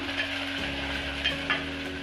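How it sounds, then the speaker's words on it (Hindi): Ginger and garlic frying in hot oil for a mughlai mutton korma, a steady close sizzle with soft stirring scrapes and a couple of brief clinks, no voices. "इसे अदरक लहसुन को अच्छे से भून लेंगे।"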